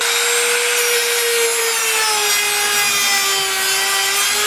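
A sheet of paper sawing through a watermelon rind makes a loud, continuous scraping and rasping friction with a faint rising whine running through it.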